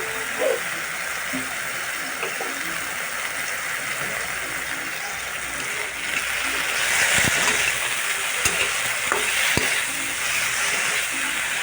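Onion frying in a little oil in a pan, a steady close sizzle that grows somewhat louder partway through, with occasional stirring clicks and no talking.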